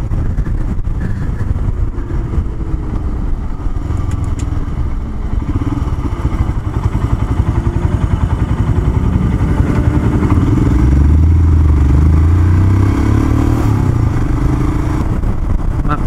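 A motorcycle cruises in top gear, heard from a helmet-mounted Sony FDR-X3000 action camera: a steady, loud engine drone with wind buffeting and a deeper rise in the engine note partway through.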